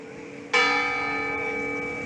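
A church bell strikes once, loud and close, at night in a town centre. The bright ringing tone hangs and slowly fades over a faint street hum.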